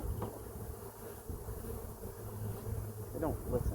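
Honey bees hum around a hive during installation, a soft steady buzz with a couple of individual bees whizzing close to the microphone near the end.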